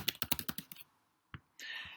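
A quick burst of about eight key presses on a computer keyboard, close and crisp, then a pause, a single click and a soft hiss.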